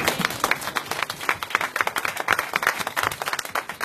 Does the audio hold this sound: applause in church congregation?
yes